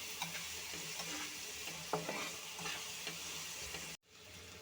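Tomato paste with garlic paste fries in a pan as a quiet, even sizzle, with occasional spatula scrapes and taps, before cutting off abruptly.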